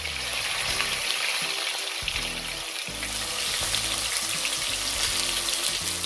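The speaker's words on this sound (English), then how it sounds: "I'm just going to allow my oxtail to brown 5 minutes on each side before adding any form of liquid." Oxtail browning in a hot pot, a continuous moderate sizzle and crackle with faint bubbling, steady throughout with a low droning hum underneath.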